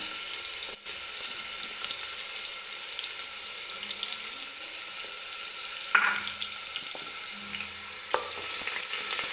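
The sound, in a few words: potato, cauliflower and vegetables frying in oil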